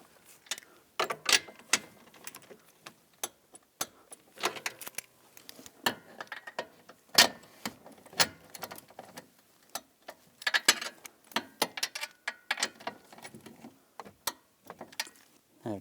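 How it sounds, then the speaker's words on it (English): Quiet clicking and ratcheting from a wrench tightening bolts on a 2010-2017 Chevrolet Equinox during heater core work, irregular metallic ticks and clacks at close range with no talking. "we're going to torque these to 16 foot-pounds"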